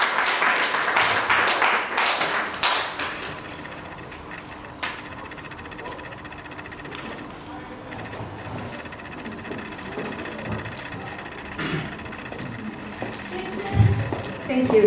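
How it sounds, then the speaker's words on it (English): An event audience claps steadily at a book launch, a dense burst of applause at first that thins into scattered clapping and crowd murmur, with a few voices talking over it. "A round of applause."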